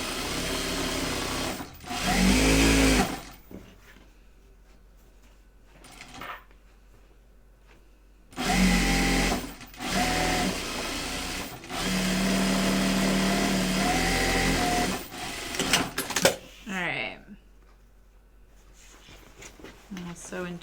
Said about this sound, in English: stitch around the pocket once it's all sewn and turned